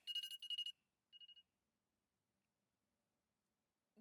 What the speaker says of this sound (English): Would you believe me if I said that that alarm was like my last call?